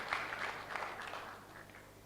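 Audience applause for the president at the opening ceremony of an annual general meeting and conference: a soft, fairly distant patter of clapping that slowly tapers over a low hum.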